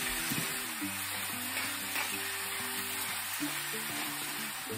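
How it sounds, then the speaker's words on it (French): Beef cubes frying in a pan for maple beef, with steady sizzling and occasional stirring scrapes, close and continuous. "je vais prendre ça pour pouvoir remuer un petit peu les cubes"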